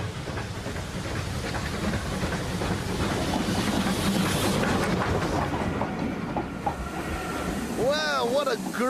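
A steam train rumbles past with a hissing, clattering roar that fills the air, then eases off as a voice begins speaking near the end.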